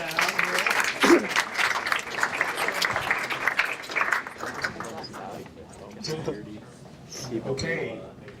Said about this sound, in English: let's give a round of applause to all of our teams